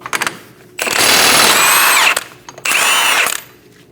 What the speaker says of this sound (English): Using a 32mm socket, we're going to remove our axle nut.